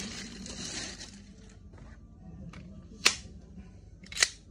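A WE T-Rex Hi-Capa airsoft pistol fired without BBs gives two sharp, separate cracks about a second apart, fairly close, over a quiet background.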